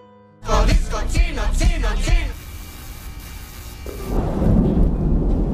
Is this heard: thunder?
yes